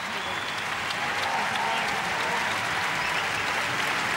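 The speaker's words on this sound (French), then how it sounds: "Et follement applaudi par le public" A basketball arena crowd in Boston applauds an injured player, steady sustained clapping filling the space throughout, dense and even with no clear breaks.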